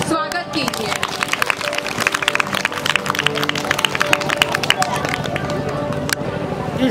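An audience at a Raksha Bandhan and 15 August celebration claps in dense, sustained applause, mixed with crowd murmur throughout.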